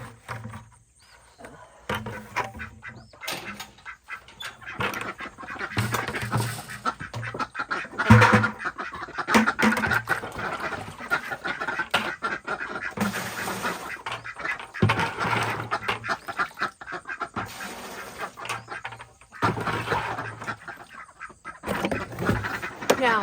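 Ducks quacking in irregular bursts over several seconds on a farm, some calls loud and near, others softer, with rustling and movement between them.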